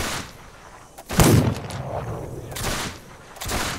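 Enemies shooting at the player in the survival game This Land is My Land: a loud burst of gunfire lands just after one second, followed by scattered fainter shots and a later crack near the end.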